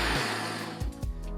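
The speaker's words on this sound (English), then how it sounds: "I'm just going to blend these up just to make it a little bit easier on the blender" A blender whirring through frozen fruit and vegetables for a simple smoothie, a steady loud motor drone with a few brief surges near the end.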